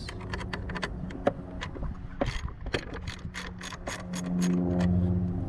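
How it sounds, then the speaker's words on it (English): A ratchet loosening a battery terminal on a Chevrolet Impala gives quick bursts of close, crisp clicking, with a low hum rising toward the end and no talk. "just loosen it up and remove the terminal"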